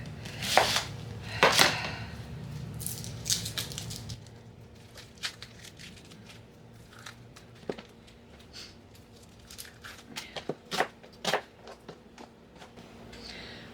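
A knife chops onions on a kitchen board: a few sharp, close cuts early on, then sparser, scattered taps and knocks with quiet gaps between them.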